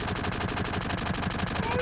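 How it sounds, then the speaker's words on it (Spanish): Rapid, steady bursts of automatic gunfire in the video game Final Fantasy VII repeating without pause, loud and continuous. "Que dejes de pegar tiros, que te vas a quedar sin balas."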